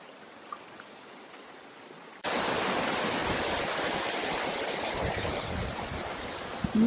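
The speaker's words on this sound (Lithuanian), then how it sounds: "Pirmas mūsų krioklys" A waterfall in Bali sets up a loud, steady broadband roar that cuts in abruptly after a quiet start and holds constant to the end, close to the microphone.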